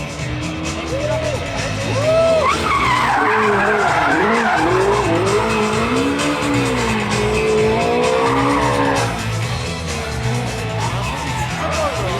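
A race car drifts at the Hyundai N x Toyota Gazoo Racing Festival, with loud sustained tire squeal that wavers and sweeps in pitch over a roaring engine, close and continuous throughout.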